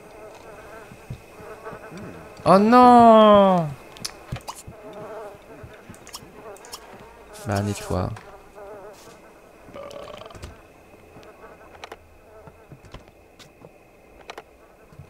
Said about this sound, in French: D'où est-ce qu'elles viennent ces mouches?